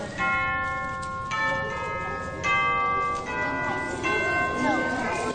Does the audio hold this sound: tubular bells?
yes